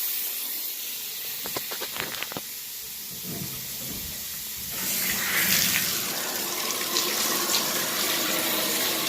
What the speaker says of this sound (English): turning on the water to your sink, to your tub, and just allowing the water to fill back up in the PTrap